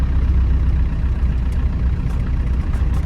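Land Rover Defender diesel driving in fourth gear, a loud steady low engine drone and road rumble from inside the cab, continuous without a break.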